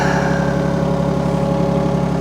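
A mini excavator's engine runs loud and close at steady high revs, a constant throbbing drone with no change over the short stretch and no talk.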